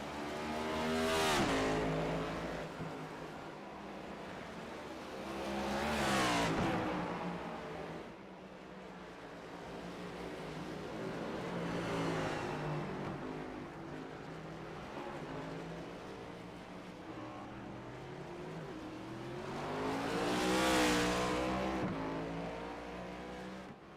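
Race cars howl around the Charlotte Motor Speedway ROVAL road course, engines swelling loudly as cars sweep past in several waves, with a steady roar of the field between passes and no talk.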